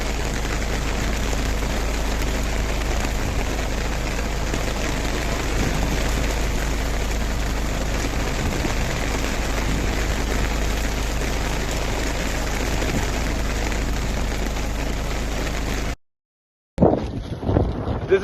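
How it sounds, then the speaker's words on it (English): Steady wind and rain roar aboard the sailing ship INSV Kaundinya at sea, with constant low rumble and wind buffeting the microphone, cutting out briefly near the end before resuming. "sometimes it rains, sometimes it's windy,"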